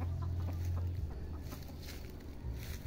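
Chickens cluck softly over a steady low rumble of background noise, the clucks scattered and irregular.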